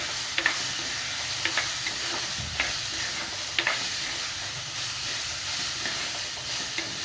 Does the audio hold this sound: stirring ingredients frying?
yes